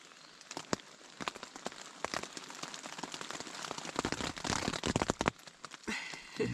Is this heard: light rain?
yes